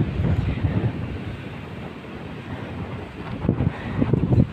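Steady, gusty wind rushes and buffets the microphone at the seashore in Taganrog, with a constant low roar like surf in the background and no voices.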